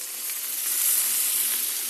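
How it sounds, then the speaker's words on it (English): Lamb chops sizzle loudly and steadily in a hot pan, a continuous close-up frying hiss with no pauses or voices. "You hear that sizzle?"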